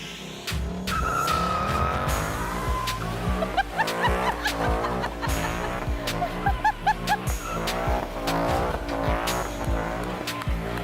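Ford Mustang spinning its tires in a burnout, engine roaring with long tire squeals and rhythmic revving bursts, loud and close, with some voices and laughter underneath.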